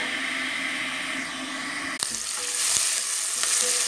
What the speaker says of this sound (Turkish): Ve şimdi soğanlarımızı iyice bir kavuruyoruz.